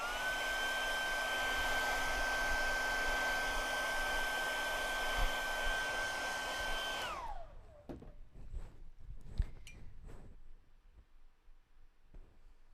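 A hair dryer blows a steady, close whir while drying a layer of paint, running evenly before switching off and winding down, leaving faint handling clicks and taps afterward.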